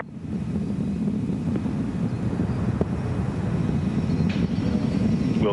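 Space Shuttle Discovery's three main engines roaring at throttle up during launch: a continuous deep, rumbling, wind-buffeted roar heard from a distance, steady and unbroken throughout.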